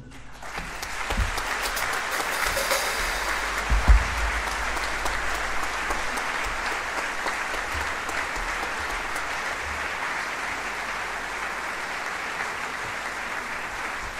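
Sustained applause from an audience at a tribute event honouring a jazz musician, a long even wash of many hands clapping, moderately distant and without speech.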